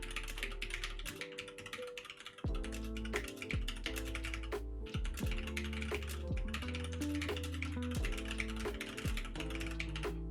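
Fast, dense clicking of typing on a computer keyboard, close up and continuous, with background music carrying sustained tones and gliding notes underneath.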